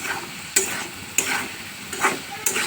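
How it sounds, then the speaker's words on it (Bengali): Potatoes fry in a pan for sabudana pulao with a continuous sizzle, broken by a few sharp scraping stirs at roughly half-second intervals. "দেখতেই পাচ্ছ আলুগুলো সুন্দর করে লাল লাল করে ভেজে নেবো"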